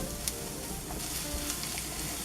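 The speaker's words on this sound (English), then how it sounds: "So we'll let the flour cook down a little bit." Flour and oil cooking down into a roux in a pan for a pasta sauce, giving a steady soft sizzle and frying crackle throughout, fairly quiet with no talking.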